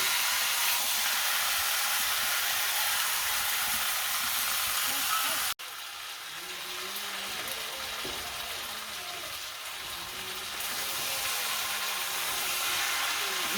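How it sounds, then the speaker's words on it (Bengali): Vermicelli fries in a pan while being stirred, giving a steady close sizzle and hiss with a brief cut midway and faint voices in the background. "এবারে নাড়তে থাকতে থাকি একটু সময় লাগবে"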